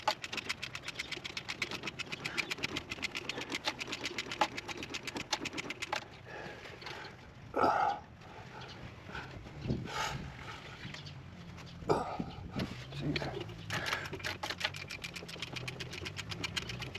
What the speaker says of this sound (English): most of this job, this wrench works great